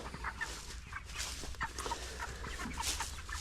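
Chickens clucking softly among grazing chicks on a ranch pasture, a couple of weeks from harvest size, with scattered faint calls over steady low outdoor background.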